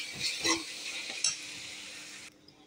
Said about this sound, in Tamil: இஞ்சி பூண்டு தக்காளி விழுது அரைச்சி வச்சோம்ல அதை போட்டு நல்லா வலித்து போட்டுக்கலாம்